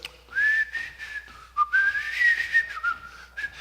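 Someone whistles a wavering, sliding tune up close, with short breaks between phrases.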